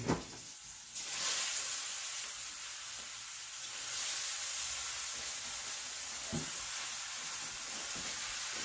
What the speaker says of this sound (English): Okay, I'm gonna get the butter started.